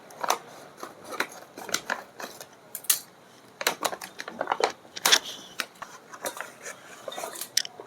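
Scissors snipping open a packet of Aashirvaad gulab jamun mix, a series of sharp, close crinkly cuts and plastic rustles in an irregular rhythm, no talking.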